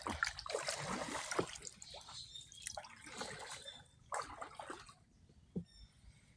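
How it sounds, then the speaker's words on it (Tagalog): Water trickles and drips through a small river on a rainy day, soft and close with scattered splashy bursts over a low steady flow. "Dito kami ngayon sa maliit na ilog."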